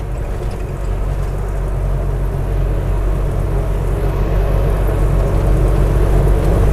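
A car fitted with Fitech fuel injection climbs a slope slowly in fourth gear at around 1400 rpm, its engine a loud, steady low rumble heard from inside the vehicle.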